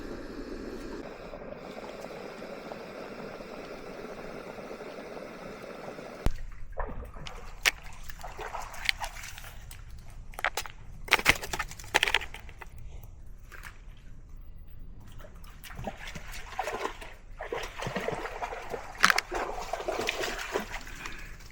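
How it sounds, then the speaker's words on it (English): Outdoors, water splashes and sloshes irregularly as dogs move through it, with scattered louder splashes over a steady background wash. "See the dogs splashing around in the background there."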